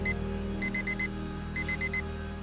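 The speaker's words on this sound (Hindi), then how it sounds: "वो आवाज उसके अलार्म से आ रही थी" An alarm clock rings in two bursts of rapid, bright, evenly spaced beeps over a low steady hum, clear and fairly close, with no talking.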